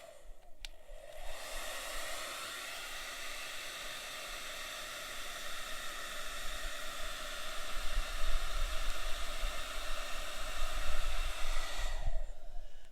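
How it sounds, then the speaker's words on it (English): A hair dryer set on low, used in a home science activity with a Styrofoam bowl, gives a steady, even broadband whoosh for about eleven seconds, starting and stopping cleanly, with a slight low rumble partway through and no talking. "Now, with this hair dryer, you can put this thing in low."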